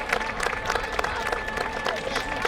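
A crowd at the George Washington Birthday Parade in Alexandria, VA applauds a scout pack outdoors: a busy mix of clapping and crowd noise with some cheering under it, steady throughout.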